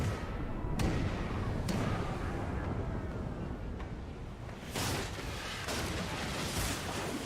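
Ship cannons fire in the video game Pillars of Eternity 2, with several sharp booming shots spaced irregularly over a rumbling background. Some land as loud close blasts and others sound softer.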